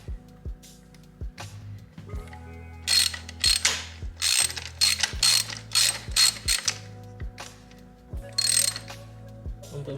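A 13 mm socket ratchet tightens the axle slider bolt on a Ducati Hypermotard, with close, crisp ratcheting clicks in repeated quick bursts separated by brief pauses.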